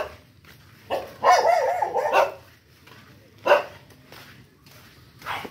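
A dog barks nearby in a burst of several quick barks, then once more, and again faintly at the end, over quiet background noise.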